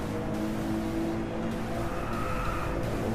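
Engine of a racing car in the DRIVECLUB driving game, likely an Aston Martin V12 Zagato, drones steadily as it brakes into a corner. The tone is constant and loud, with a faint tyre skid, and no talking.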